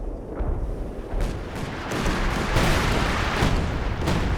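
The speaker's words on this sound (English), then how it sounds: "looks like we've got another scavenge 105mm howitzer artillery barrage coming down" Barrage of 105mm howitzer shells in a World War II real-time strategy game, dense rumbling booms and blasts piling up continuously, loud and close with no gaps.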